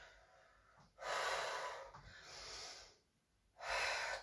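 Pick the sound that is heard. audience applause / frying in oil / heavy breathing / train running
heavy breathing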